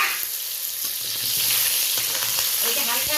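Two dried red chillies, a spoonful of black mustard seeds and cut raw mango fry in hot oil, a loud continuous sizzle with crackling pops building up, no voices.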